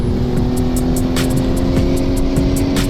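A turbocharged Mitsubishi Lancer Evolution IX engine roars steadily at high revs during a launch, loud and close, with rhythmic bursts of higher noise as it accelerates hard.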